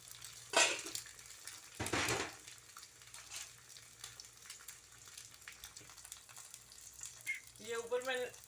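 Egg paratha frying in a pan, a quiet steady sizzle with a couple of louder scraping bursts early on, and a voice speaking briefly near the end.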